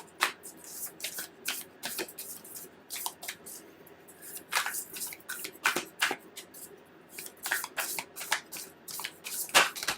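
Oracle cards being shuffled and drawn during a weekly water-sign reading: a dense run of crisp, papery riffles and flicks in quick bursts, close and fairly quiet, with no talking.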